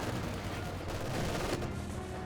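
MG34 machine gun fire in a strategy video game, a dense, continuous clatter of distant shots blending into a steady rumbling roar at moderate level.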